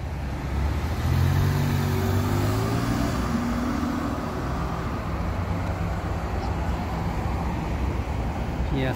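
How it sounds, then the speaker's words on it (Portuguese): Road car engines rev and accelerate at Daikoku parking area in Japan, a Mazda RX-8 and a Ferrari pulling away in a loud, steady roar with shifting engine tones over crowd and traffic noise. "O RX-8 acelerou mais que a Ferrari."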